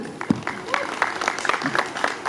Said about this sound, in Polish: wielkie brawa dla Marty.